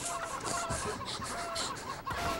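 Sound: chickens clucking in a video game

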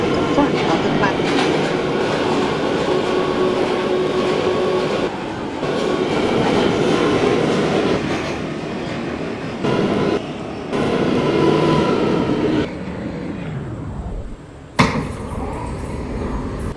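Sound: R179 C local subway train running

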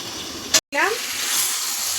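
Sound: mutton with papaya and potato sizzling while being sautéed

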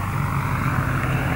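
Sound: aircraft making a low pass over an airfield

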